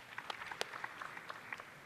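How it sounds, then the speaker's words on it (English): A handful of scattered, faint claps from a small audience at a community talk, sparse and uneven over a couple of seconds with no voices. "Round of applause"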